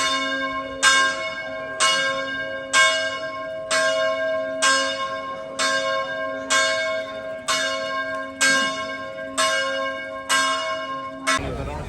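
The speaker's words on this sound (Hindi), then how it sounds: "इस तरह की घंटियाँ बजती हैं इनके चर्च में।" Church bells toll on an evening in Montenegro, around eleven loud, evenly spaced strikes roughly a second apart, each decaying into a lingering hum.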